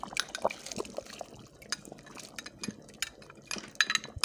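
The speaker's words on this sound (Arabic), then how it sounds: "من بعد ما طابت لينا الحريره غنزيدوها العدس" Lentils and rice go into a pot of Moroccan harira soup. Soft watery splashes and light clinks come in scattered bursts, close and fairly quiet.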